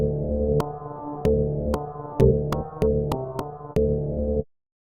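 Twisted Trees synth run through Harmonia adding a fifth above and an octave below, producing a rich layered chord stab pattern with repeated sustained notes and crisp attack clicks, ending abruptly into silence.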